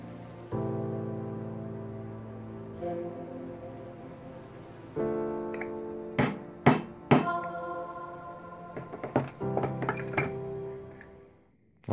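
Holes punched in leather for a handmade key holder: a steady background hum, then a quick series of sharp, loud hammer strikes on the punch, spaced irregularly with small clinks between them.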